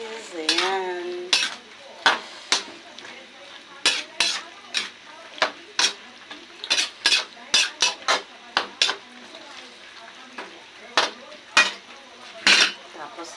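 Green peas are stirred in a pan, with a spoon clinking and scraping against the metal in quick irregular bursts over a faint background sizzle; a voice briefly sounds at the start.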